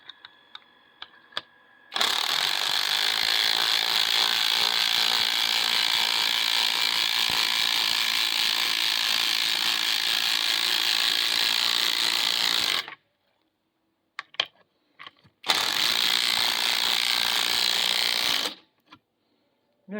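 Cordless impact wrenches from Makita, Einhell and a Chinese brand run in a speed comparison, giving a loud, steady mechanical buzz for about ten seconds, a short quiet gap with small clicks, then a second shorter run.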